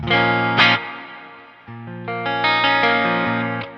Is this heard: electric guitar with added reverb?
yes